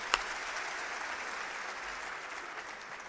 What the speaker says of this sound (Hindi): आप एक बार तालियां बजा दें।